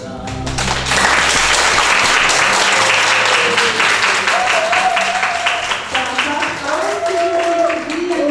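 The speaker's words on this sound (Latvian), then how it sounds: "ar skaļiem aplausiem pateicamies koncerta dalībniekiem" Loud, sustained applause from a concert audience thanking the performers and organizers, dense clapping continuing throughout with a few voices rising above it.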